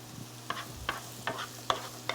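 Onions sweat gently in a pan with a pinch of salt. Quiet soft frying sounds are punctuated by a few light clinks and scrapes of stirring at irregular intervals, and no one speaks.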